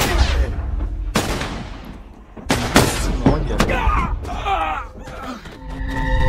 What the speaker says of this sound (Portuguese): da onde que eu tô tomando tiro que eu não tô vendo?